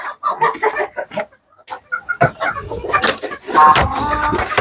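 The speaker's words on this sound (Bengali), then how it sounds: "এই বাবা দেখেন কত বড় বড় মুরগি" Big, heavy chickens in a poultry farm shed cluck in bursts, many birds calling close and loud, with a brief lull before the busy clucking swells again.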